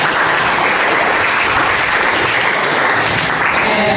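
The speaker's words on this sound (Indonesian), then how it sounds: "Oke, tepuk tangan dulu untuk." A classroom of students breaks into loud, sustained applause during a geography lesson, a thick wash of clapping that holds steady from start to finish with no talk over it.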